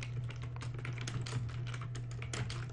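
Rapid close typing on a computer keyboard while writing code, a quick irregular patter of key clicks over a low steady hum.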